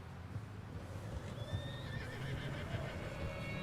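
A horse in the video game Red Dead Redemption 2, wading deep in snow, gives a short, faint whinny over a steady low rumble of background noise and soft hoof sounds.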